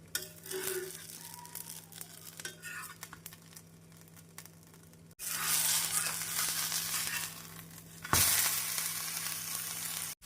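Adai dosa, made with kalyana murungai leaves, frying in sesame oil on a high flame, a steady close sizzle that swells into loud bursts of crackling partway through, with no talk.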